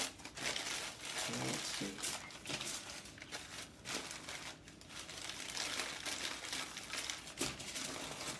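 Sheets of newspaper and tin foil crumpled and folded by hand, a steady close crinkling and crackling through most of the stretch with brief pauses, while a person talks over it.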